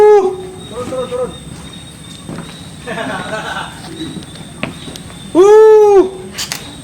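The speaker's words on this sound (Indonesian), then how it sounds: "Ini suara burung." Birds calling in a mangrove forest, loud close cooing and whistled calls in separate bursts with a strong call near the end, over a faint steady hum and quiet background chatter.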